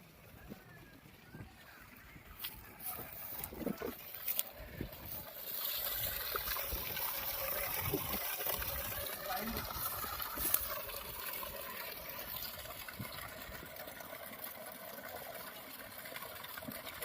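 A 3 hp PMSM solar pump gushes water outdoors in a steady rushing, splashing flow that builds after the first few seconds, with someone talking over it.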